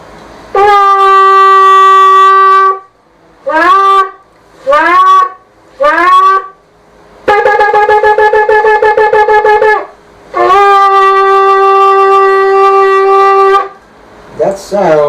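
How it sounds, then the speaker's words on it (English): A shofar is blown for Rosh Hashanah as a loud, brassy ram's-horn call up close. A long blast is followed by three short rising notes, then two more long sustained blasts and a brief final note, with no talking. "that the sound of the shofar"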